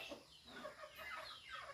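Chickens and roosters cluck in quick, overlapping calls. The faint flock sounds close by over soft background noise.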